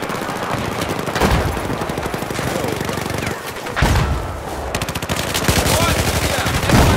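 Rifle gunfire from a Battlefield 4 match: a steady rapid rattle of shots with several louder close bursts standing out over a dense, continuous battle din, with faint voices mixed in.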